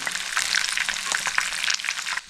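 Chicken leg piece frying in hot oil for tandoori chicken, a steady dense crackling sizzle with close, continuous spatters and a brief drop at the end; no talking.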